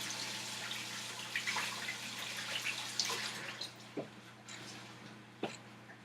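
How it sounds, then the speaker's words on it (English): Running tap water splashes steadily as hands covered in flour are rinsed. It is fairly quiet and close, broken by a few distinct drips and soft clunks against the sink. "I'm going to wash my hands since I was touching fabric"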